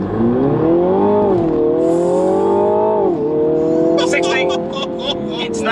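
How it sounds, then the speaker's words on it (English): A 2020 Mini Clubman JCW held on the brake with the throttle down for a launch control start, its engine droning loudly and steadily close by, pitch wavering as the revs hold and then rise. "Foot on the brake, drop the throttle. Hold it."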